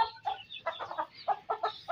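An Aseel mother hen clucking near her chicks, a run of soft, close, rhythmic clucks over about two seconds, heard alone without talk.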